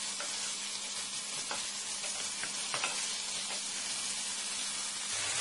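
Chicken breast fries in a pan, giving a continuous soft sizzle and hiss with scattered small pops, fairly quiet and close, with no voices.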